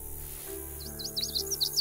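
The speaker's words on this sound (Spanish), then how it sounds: "Así vamos ahogando el ruido de nuestras pisadas al hacer el sonido del reclamo." A hunting call device from the game theHunter: Call of the Wild gives a series of short, high chirping whistles over a steady ambient background, repeating quickly for about a second.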